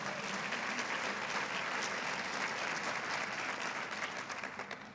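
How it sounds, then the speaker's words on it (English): Steady applause from a sizable crowd fills the whole stretch, dense and even, tapering slightly at the very end. "Can we give Tasha another round of applause, please?"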